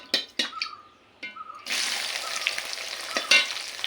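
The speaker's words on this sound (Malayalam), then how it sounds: "ഇതിലേക്ക് ഞാൻ 3 ടേബിൾ സ്പൂൺ വെളിച്ചെണ്ണ ഒഴിച്ചിട്ടുണ്ട്. അതിൽ ആദ്യമായിട്ട് ഇട്ട് കൊടുക്കുന്നത് ചുവന്നുള്ളിയാണ്" Shallots dropped into hot coconut oil in a pan, for a beef roast: a few clunks and brief taps, then a sudden loud bubbling sizzle that carries on steadily to the end.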